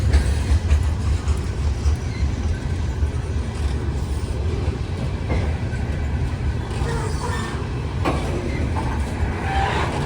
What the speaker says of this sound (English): Hey, I think the other train's moving.